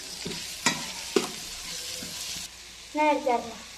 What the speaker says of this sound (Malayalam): പിന്നെ തക്കാളി, പച്ചമുളക് ഇതൊക്കെ ഇട്ടിട്ട് ഒന്നും കൂടി വഴറ്റിയെടുക്കുക